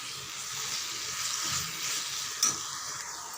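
Potato and capsicum gravy with ground tomato paste sautéing in a pan over low heat, a steady broadband sizzle with soft stirring scrapes and a brief sharp clink near the end, no voices.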